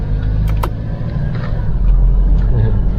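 A car cruising along a rural highway in Uthai Thani province, Thailand, gives a steady, loud low road-and-engine rumble that continues throughout, with a few faint clicks and rattles.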